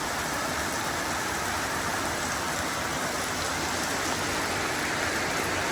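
Heavy rain pours down steadily, a dense, continuous hiss with no break, close and loud throughout, no voices.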